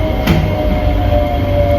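Singapore MRT subway train at Paya Lebar station, a steady loud rumble of the running train with a brief squeal-like burst near the start and a faint sustained tone throughout, no talking.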